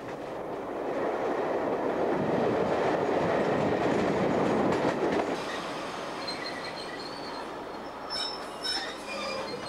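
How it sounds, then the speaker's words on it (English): A Gatwick Express train runs from London Victoria toward Gatwick Airport, a steady rumble of rolling wheels with rising and falling rail noise and a few thin high squeals from the wheels later on. No one speaks. "time to return home via the Gatwick Express, which runs every 15 minutes from London Victoria to Gatwick Airport"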